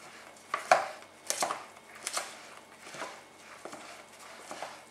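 Sushi rice is mixed with rice vinegar in a bowl using a spoon, giving soft, irregular scraping and tapping strokes with quiet gaps between them, close by.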